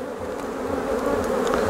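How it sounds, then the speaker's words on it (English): Honey bees buzz steadily and close on a beehive frame during a hive inspection, a continuous droning hum that holds level and alone throughout. "on this side of the frame, we again have bees emerging from various cells"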